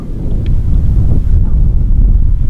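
Strong wind buffeting the microphone on a golf course, a loud continuous rumbling gust with no voices.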